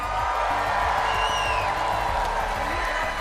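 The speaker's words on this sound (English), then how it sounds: "One more time, Fort Worth, let them hear you guys." A live esports crowd at the Fortnite FNCS Global Championship 2024 in Fort Worth cheers and applauds in a steady, dense wash of sound, with whoops rising over the roar throughout.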